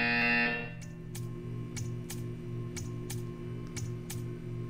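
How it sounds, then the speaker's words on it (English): A buzzer in the video game Portal 2 sounds as a loud electronic blast that stops abruptly, then a series of evenly spaced clicks ticks over a steady low hum. "You will hear a buzzer."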